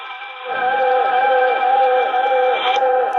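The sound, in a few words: Panasonic RF-2400D radio tuned to AM 1080 WNWI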